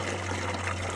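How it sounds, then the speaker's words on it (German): Fresh water runs steadily from a pump-fed tap at a motorhome stopover in Charmes, France, a continuous close trickle and splash with a low steady pump hum beneath, no talk. "dann fängt die Pumpe an zu pumpen und es läuft Wasser."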